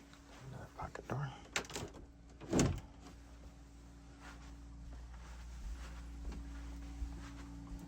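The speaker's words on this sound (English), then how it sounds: "Another pocket door." A soft rolling slide of a pocket door inside an RV, with a brief bump and some indistinct voices, then a steady low electrical hum.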